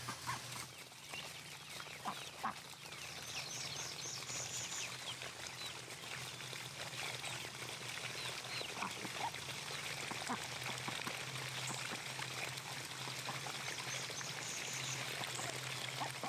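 Water overflows steadily from a chicken waterer in a hen yard, a faint continuous trickle with chickens softly clucking nearby and low murmured voices.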